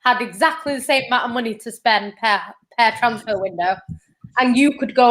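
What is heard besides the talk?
No everyday noise stands out behind the speech.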